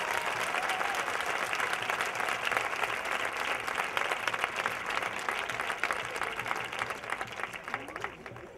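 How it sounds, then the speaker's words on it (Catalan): Crowd applause at an outdoor street performance in a city plaza, sustained dense clapping from a sizable audience throughout, steady and fairly loud with no talk over it. "Un aplaudiment per a lo que està passant."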